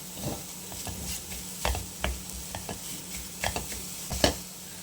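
Jaggery being stirred into a mixture for mango-juice modak dough, heard as scraping, clicking spoon strokes against the pot at an irregular rhythm, close and moderately loud.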